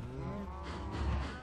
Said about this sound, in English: there's at least 30 cows